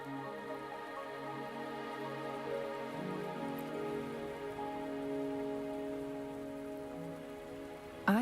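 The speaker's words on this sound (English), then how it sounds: "Are you trapped here by the rain?" Rain falls steadily in the video game Wuthering Waves, a soft even patter beneath sustained tonal music, ending in a sudden louder burst.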